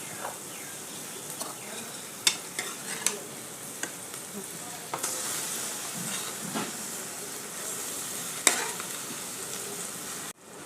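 Red lentils hit a pan of fried ginger and green chillies, giving a steady sizzle and hiss with scattered stirring clicks and scrapes, fairly soft throughout.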